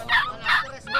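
Short yips and barks from several dogs at a busy Bocaue, Bulacan market, two or three quick bursts at moderate distance.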